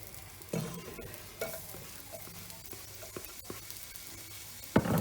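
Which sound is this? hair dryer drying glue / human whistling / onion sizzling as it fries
onion sizzling as it fries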